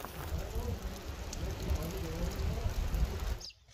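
Steady rain falls outdoors in the mountains of Azad Kashmir, a dense broadband hiss with faint voices underneath, cutting off abruptly near the end.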